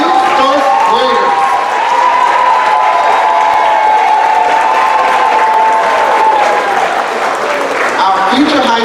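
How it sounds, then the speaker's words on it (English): Kindergarten promotion ceremony audience giving a loud, sustained round of applause with cheering mixed in, filling the hall without a break and tapering slightly near the end. "Let's give another round of applause for our new first graders."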